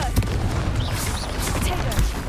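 A Confringo fire blast spell cast in Hogwarts Legacy: a dense, continuous booming burst of game effects fills the whole moment, loud and roaring, with a voice calling out over it.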